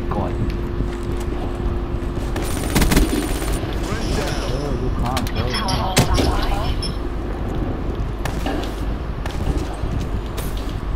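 Gunfire from Call of Duty Black Ops 3 multiplayer, a gun with heavy recoil firing in dense, overlapping bursts and volleys throughout, mixed with game noise, under near-constant talk.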